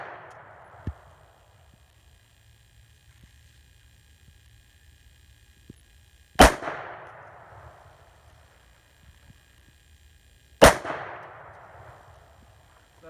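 Two sharp gunshots several seconds apart, each with a ringing crack and short decay, fired through sheets of plexiglass into books, notebooks and a calculator; a small click earlier, otherwise quiet.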